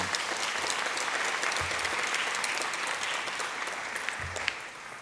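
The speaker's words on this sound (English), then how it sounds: "Can you help give a round of applause for the community arts team that developed this plan?" An audience at the Any Given Child launch applauds the community arts team, a full, even round of clapping from a crowd that carries on steadily for about five seconds and tapers slightly toward the end.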